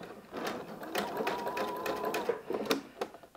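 A sewing machine runs steadily, stitching a skirt waistband with elastic, in a fairly close, continuous burst that briefly slows and restarts near the end.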